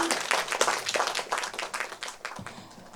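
Parents and attendees at a high school parent training session applaud, with distinct hand claps packed into an uneven, fairly close burst that thins out toward the end.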